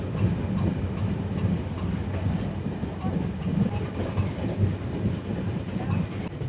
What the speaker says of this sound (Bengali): এখন আমাদের ট্রেন এন্ট্রি করছে কাশিয়ানি